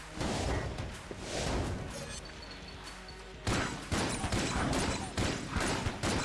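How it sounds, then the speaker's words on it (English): Explosions and gunfire in the video game Enter the Gungeon, a dense run of crashing blasts and rapid shots that dips briefly, then resumes with several sharp bursts. "no, that's a small explosion."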